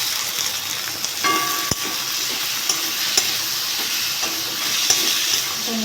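Tomato is stirred into a frying spice masala of Kashmiri chilli and salt for a katla fish curry with potatoes. A constant hissing sizzle is heard alone, with occasional sharp spatula clinks against the pan.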